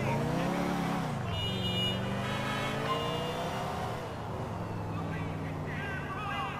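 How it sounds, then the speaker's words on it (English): A stolen car driven in Grand Theft Auto IV gives a steady, loud engine drone whose pitch sweeps down and up as it revs and shifts, continuous for several seconds. "So I'm gonna steal this car, then the cops gonna chase me."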